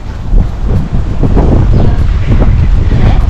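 Cold outdoor wind buffeting the microphone in a steady, loud low rumble with gusts, no clear voices over it.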